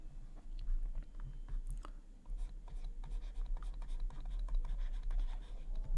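A pen scratches steadily across paper while a math solution is written out, close and continuous with short bursts of strokes over a low steady hum.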